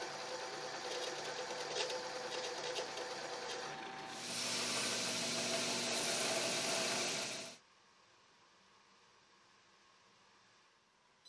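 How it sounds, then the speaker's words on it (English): A step bit bores through a steel cleaver blade with a steady mechanical whine that grows louder and brighter midway, then cuts off, leaving a quiet hum. "use a step bit to gradually widen the hole on both sides until it's the right size"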